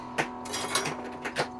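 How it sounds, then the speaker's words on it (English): A cat scratching carpet: several short, rough scratching bursts at an irregular pace over a steady low electrical hum. "That's my cat scratching the carpet, by the way."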